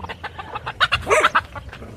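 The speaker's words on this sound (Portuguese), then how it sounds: "Galinha com pinto." A hen with a single chick clucks close by at a rural farmstead, her short rhythmic clucks coming in a quick run of several calls, with soft background noise and no talking.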